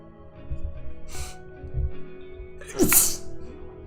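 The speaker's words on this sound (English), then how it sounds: "I'm gonna sneeze." A single sharp sneeze bursts out near the end, preceded by soft background murmuring and low rumbling.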